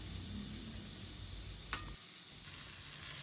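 Cabbage and baby corn stir-frying in a pan for a shirataki noodle dish, a soft steady sizzle with a brief clink of stirring midway, quiet and close with no talking.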